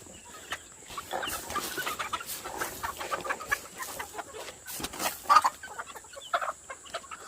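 Farm chickens cluck busily in a steady, overlapping stream of short calls, close by and moderately loud, with no voices.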